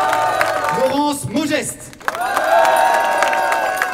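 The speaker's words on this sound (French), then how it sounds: "Des applaudissements s'il vous plaît pour Isabelle Silvestrini" A crowd applauds and cheers at a political rally while someone speaks loudly over it through an amplified microphone.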